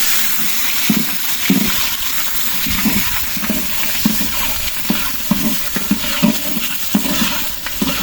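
Onions and green chilies fry in hot oil for vegetable khichuri, giving a loud, steady sizzle with a spoon stirring and scraping the pot at a regular rhythm. No one speaks.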